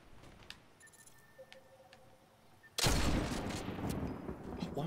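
A pistol firing in the Fortnite battle royale game opens with a sudden loud blast partway through, followed by a sustained, dense roar of noise that stays loud to the end after a quiet stretch.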